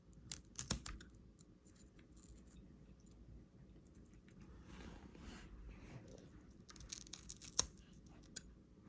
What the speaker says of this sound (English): I'll continue cutting through the ray.